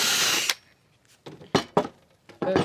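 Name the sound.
power drill drilling 3/4 inch hole for carpenter bee trap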